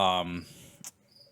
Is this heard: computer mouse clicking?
no